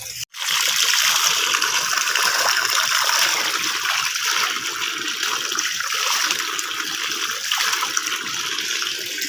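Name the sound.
spring water flowing from the mountain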